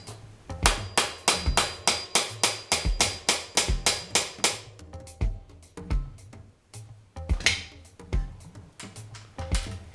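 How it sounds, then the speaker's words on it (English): A hammer taps a star nut down into a bicycle steerer tube, striking the top cap and bolt. About twenty sharp, close metallic taps come in an even rhythm, then more spaced and irregular strikes follow. "just tap the bolt little by little until you get it to where you want it"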